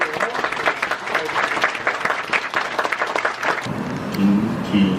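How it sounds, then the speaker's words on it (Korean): Congregation applause at a Korean church elder ordination service, dense clapping from the pews that fades out near the end as a voice begins speaking. "다 같이 한 박수로."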